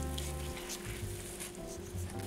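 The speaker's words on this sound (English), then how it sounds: "We're gonna let that glaze simmer for just a few minutes." A glaze of Worcestershire sauce, brown sugar and garlic powder simmers in a pan, giving a steady, close sizzling bubble that runs continuously without talk.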